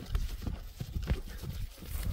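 A horse moves nearby, its hooves making soft, uneven clip-clop thuds at close range over a quiet background.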